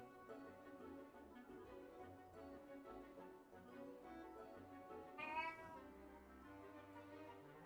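A cat lets out a short meow over a steady layer of background music or room noise, brief and moderately loud.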